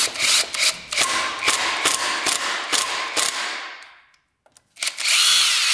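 A power tool drives bolts coated in blue threadlocker into a Honda TRX450 quad, loud close whirring bursts with ratcheting clicks, a brief pause, then another burst.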